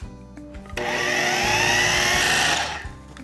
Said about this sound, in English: And you want to blend it until smooth.